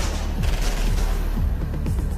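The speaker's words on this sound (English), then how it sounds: "Automatic gunfire rakes Stanford's car" Rapid bursts of automatic gunfire rake a car, crackling in a continuous barrage, loud and dense, with booming low thuds underneath.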